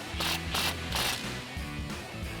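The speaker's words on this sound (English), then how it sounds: "Now we're gonna go back and tighten all of our bolts." A ratchet with a 16mm socket tightens the bottom bolts of a Westin HDX winch mount grille guard on a 2019-2026 Chevrolet Silverado 1500, giving about six quick, even clicking strokes, close and alone.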